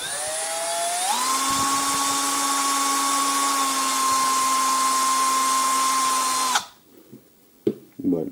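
A Milwaukee M12 cordless drill with a wobbly chuck runs steadily and loudly at a constant whine for several seconds, then stops abruptly, followed by a few faint handling knocks.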